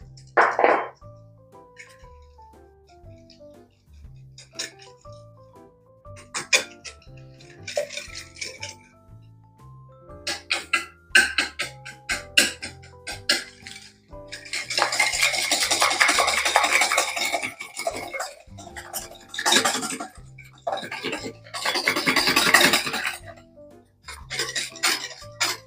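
Eggs and brown sugar being stirred into pumpkin pie filling in a bowl, rhythmic scraping and thudding strokes that come in bursts, growing loud and rough in the middle, with background music throughout.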